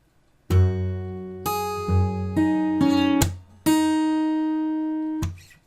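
A short fingerpicked acoustic guitar phrase from a fingerstyle arrangement: single notes plucked in sequence, ringing and overlapping, ending with a sharp muted hit.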